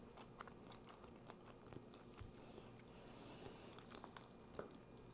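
A crunchy kettle-corn-style protein snack is chewed close up, with quiet repeated bites and crunches at a low level, no talking.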